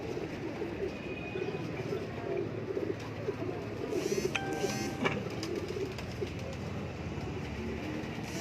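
Pigeons in a breeding loft in Lahore coo in a low, continuous murmur, joined midway by brief sharper tonal squeaks and clatter over steady background noise.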